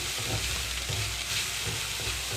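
Tindora (ivy gourd) pieces frying in a pan while being stirred, giving a steady, loud sizzle with soft scraping strokes underneath, close and continuous with no talking.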